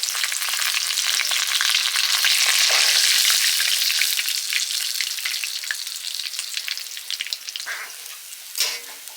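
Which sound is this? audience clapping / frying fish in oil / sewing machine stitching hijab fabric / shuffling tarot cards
frying fish in oil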